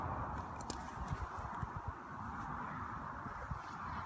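Horse hooves clip-clop in an irregular, soft rhythm on the ground nearby, over a steady background hiss with no talking.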